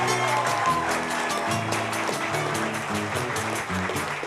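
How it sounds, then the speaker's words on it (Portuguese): Applause from a carnival crowd at a samba school standard awards ceremony in Caxias do Sul, a steady dense wash of clapping held throughout under music. "Palmas!"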